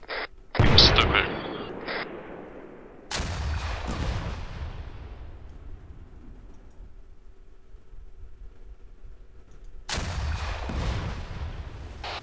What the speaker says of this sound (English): I'm gonna shoot the base a few times